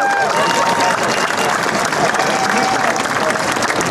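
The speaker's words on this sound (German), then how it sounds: "Also Applaus an euch erstmal." A large outdoor crowd claps and cheers at an Article 13 street protest in Cologne, loud continuous applause with mixed shouts throughout.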